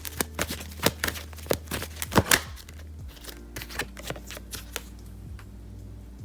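Tarot cards shuffled by hand in quick, crisp riffling bursts with sharp slaps and flicks, fairly close and alone, easing into softer, sparser card handling near the end.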